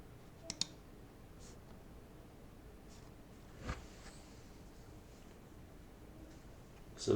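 A single computer mouse click selecting Build Project from a software menu, a quiet sharp tick near the start over faint room hiss, followed by a couple of softer clicks later.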